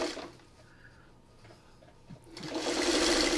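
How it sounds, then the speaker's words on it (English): Sewing machine stitching pairs of quilt blocks together, a low steady whir that rises to a loud continuous run near the end. "So what we're going to do is we're just going to start sewing these together,"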